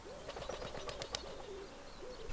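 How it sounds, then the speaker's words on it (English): A pigeon beside a deep puddle at Avebury in the UK gives a low, soft coo over steady outdoor background noise, with a few faint chirps and light rustles. "Oh, there's a pigeon."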